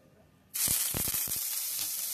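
Ginger paste, onion paste and tomato dropped into hot oil in a kadai, setting off a sudden loud sizzle that stays as a steady close hiss with a few sharp crackles.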